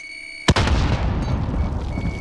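A frag grenade detonates in Call of Duty: Modern Warfare with one sharp, loud blast, then a long low rumble that rolls on and fades slowly.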